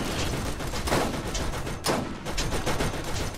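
Sustained turret gunfire in the looter-shooter Borderlands, a steady fast stream of loud shots with a couple of heavier bursts, no voices over it.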